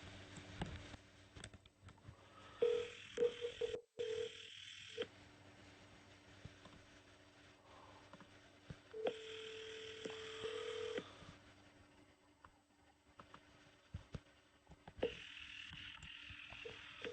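A quiet phone line carries steady tones and a few dialing beeps, with short clicks and pauses between them, as a call is placed to ChatGPT.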